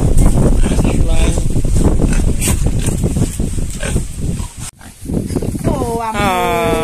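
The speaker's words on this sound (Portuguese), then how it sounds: "Porcos, como fala em alemão? Schwein." Pigs grunt and oink on a farm, close and loud, mixed with people talking over them and some outdoor wind noise.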